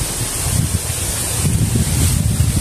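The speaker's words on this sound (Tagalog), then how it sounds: "Malakas ang hangin ngayon." Strong outdoor wind blowing hard, buffeting the microphone with a loud, continuous low roar and rushing noise that swells slightly throughout.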